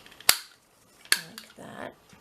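Scissors snip twice through the rounded corners of a folded piece of card, giving two sharp, close clicks with a short pause between them and a faint murmur of voice after.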